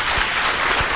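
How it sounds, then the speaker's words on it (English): An audience at a conference summit in Chisinau breaks into brief, loud, dense applause after a speaker's talk on stage. "Your applause, please"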